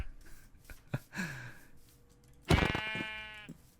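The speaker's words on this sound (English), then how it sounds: "I got all these mutton sheep around" Sheep in the video game Minecraft give a loud, wavering bleat about two-thirds of the way through, after some quiet shuffling and a few soft clicks.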